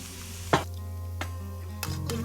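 Squid frying in hot oil with softened onion for a seafood paella, a steady close sizzle broken by a few sharp spatula scrapes and clinks against the pan.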